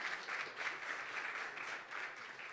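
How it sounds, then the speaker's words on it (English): Brief, faint audience applause at a tech conference presentation, a soft continuous wash of clapping from a distance with no break. "Let's give them a round of applause."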